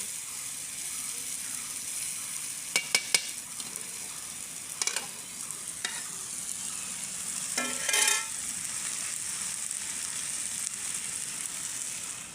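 Banana blossom bhaji sizzles steadily in a pan, a continuous bright frying hiss with a few sharp clinks and scrapes of stirring, loudest around the middle and end.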